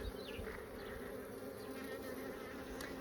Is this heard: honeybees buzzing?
yes